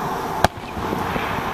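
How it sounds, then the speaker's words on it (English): A single sharp firework bang goes off at night from a moving car, standing out briefly against a steady rumble of road and engine noise. "if they continue to shoot them off, there you go. Up. Fireworks!"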